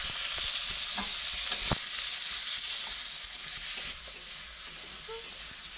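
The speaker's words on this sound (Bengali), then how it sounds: "পটলগুলোকে আমি লাল লাল করে ভেজে নেবো" Steady oil sizzling and hissing from pieces of pointed gourd frying in a pan until browned, with a few faint clinks and stirring scrapes.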